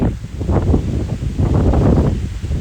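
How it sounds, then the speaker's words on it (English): Strong wind at the Mach Loop in Wales blowing hard across the microphone, loud low rumbling buffets that surge and ease in irregular gusts without pause. "It's so windy, man. Really windy here."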